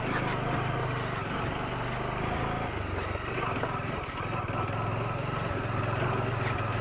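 Motorcycle ridden through Kerala with the rider standing on the pegs, its engine droning steadily and close throughout, with a little wind noise and no speech.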